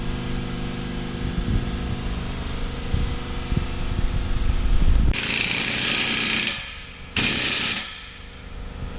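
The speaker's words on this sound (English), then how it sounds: "Next, we're going to tighten up the clamps to hold the tips on." Clamps on aFe Rebel exhaust tips being tightened on a Chevy Silverado 5.3L, heard as steady mechanical ratcheting and tool noise up close, then two loud bursts of harsh broadband noise near the end.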